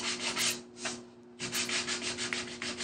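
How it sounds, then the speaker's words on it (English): Steady, rasping sanding with a 220-grit disc on a stenciled painted home decor piece, close and continuous, briefly easing off midway before resuming at full strength. "I'm going to skip to a lighter sanding disc. This is the 220."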